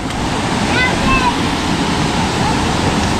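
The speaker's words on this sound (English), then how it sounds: "cool waterfall" Cold Brook Falls pours in a loud, steady rushing roar of falling water close by, with a brief voice heard faintly under the constant noise.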